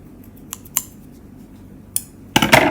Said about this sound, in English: grab your scissors and then cut a long tail because we want to sew that gap closed